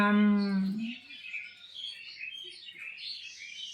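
White-rumped shama (murai) birds in breeding cages give bright, high chirps and warbles that run continuously after a brief low voiced tone at the start, with talk mixed in underneath.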